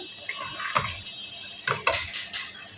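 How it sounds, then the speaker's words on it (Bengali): Dried fish (shutki) browning in a home kitchen pan, giving soft, intermittent sizzles and scraping stir sounds in a few bursts, close and moderately quiet, with no talk. "এই দিকে হচ্ছে সুটকিটাকে একটু কষায় নিলাম"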